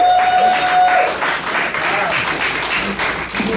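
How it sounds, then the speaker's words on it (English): Audience applause for an honoree at a Hall of Fame ceremony, a full round of clapping from the crowd with a voice speaking over it. "please put your hands together for Eric Ortiz"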